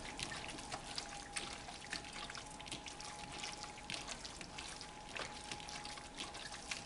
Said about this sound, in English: And then you're going to mix them into your pulp.